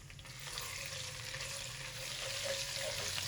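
Ginger and garlic paste fry with yellow mustard seeds in hot oil, giving a constant close sizzle with a faint crackle, low and even from start to finish.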